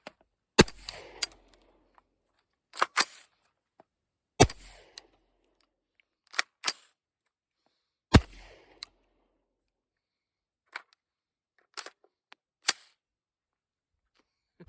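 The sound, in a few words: suppressed .300 BLK rifle shots fired into dirt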